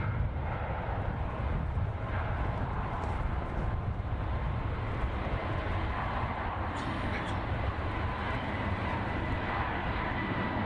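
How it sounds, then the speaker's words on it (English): A Delta Air Lines Airbus A321neo arriving from Boston at San Francisco Airport gives off a steady, moderately distant jet roar that holds evenly from start to finish. "Our next for arrival is going to be an Airbus A321 Neo with Delta Airlines coming in from Boston."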